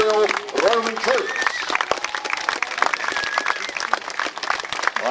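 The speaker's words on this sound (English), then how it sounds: "will you please give a big round of applause for our Imperial Roman troops." An outdoor history festival crowd applauds Imperial Roman troop re-enactors, a steady stretch of scattered clapping with voices and shouts mixed in.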